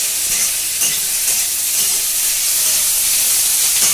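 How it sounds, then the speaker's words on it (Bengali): Capsicum frying with onions in a pan for chicken chowmein gives a steady, loud sizzling hiss that holds evenly throughout, with faint stirring underneath and no voices. "এই ক্যাপসিকামটাকে পেঁয়াজের সঙ্গে একটু কষতে হবে"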